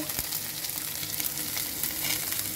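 Shredded cabbage, carrots and potatoes sizzle in a pan for vegetable Maggi noodles, a steady, dense crackle with brief stirring sounds and no talking.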